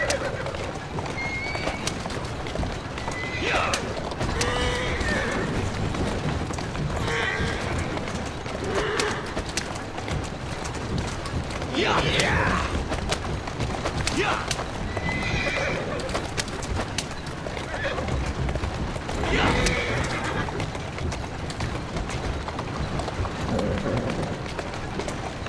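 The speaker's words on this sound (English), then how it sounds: "Who's a good horse? You are." In the Assassin's Creed Syndicate video game, a horse whinnies several times over steady clip-clopping hooves, with the neighs loud and close against a constant bed of hoofbeats and ambient noise.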